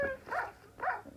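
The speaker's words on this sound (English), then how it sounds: "No, you are barking normally." Two short barks from a Minecraft wolf in a video game, spaced about half a second apart, each a quick, fairly close yelp with nothing else around it.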